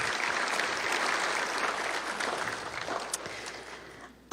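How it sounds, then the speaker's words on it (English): Graduation audience applauding for the class of 2021, a dense, steady wash of clapping from a large crowd that holds for several seconds and tapers slightly before a sharp sound at the very end. "Let's give them a big round of applause"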